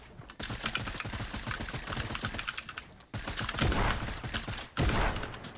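Rapid bursts of gunfire in Fortnite rattle off in dense, fast strings, pausing briefly before resuming, loud and close with no talking.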